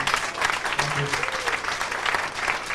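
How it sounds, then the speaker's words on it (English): An audience at a Mr Metrobear NY contest at the LGBT Center in New York applauds the committee with steady, dense clapping that fills the room, with faint voices mixed in underneath. "Big round of applause for the whole committee"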